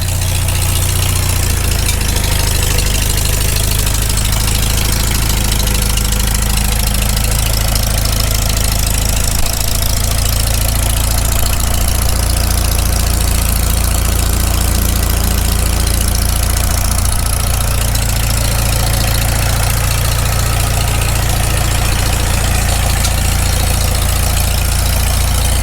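A freshly rebuilt Farmall Super M tractor engine idles after its first start, a loud, steady low rumble with an even chugging pulse throughout, close by and with no talk.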